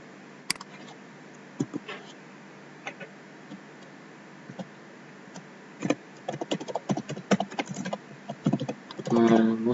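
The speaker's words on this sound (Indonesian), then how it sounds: "atau saya ketik semua saya dulu ya" Typing on a computer keyboard: sparse, isolated key clicks at first, growing into a quicker flurry of keystrokes, with a brief louder burst at the very end.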